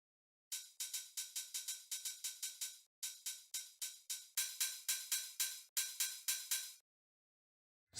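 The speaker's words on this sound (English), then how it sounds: "this is just a second offbeat open hi-hat" Bright open hi-hat in a trance track, played alone as a second offbeat layer: crisp metallic hits in quick even rhythm, each with a short sizzling decay, in bursts separated by brief gaps.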